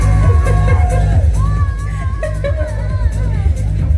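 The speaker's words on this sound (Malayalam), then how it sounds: "ഒരു ഉഗ്രം കൈടി കൊടുത്തുകൊണ്ട്" At a beauty salon opening in Chemmad, a crowd whoops and shouts loudly to welcome celebrities Shiyas Kareem and Anumol onto the stage, over a constant low hum, with voices mixed into the din.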